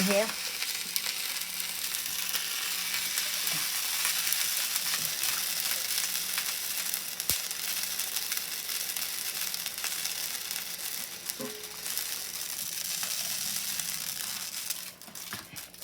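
Chili with onion powder, garlic powder and cumin sizzles and bubbles steadily in a pot after water is poured in, a close, continuous frying hiss with occasional stirring scrapes that ends near the close.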